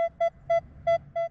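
Minelab Equinox 800 metal detector sounding over a penny: five short, evenly spaced electronic beeps, clear and close, with a faint low hum of ground noise between them.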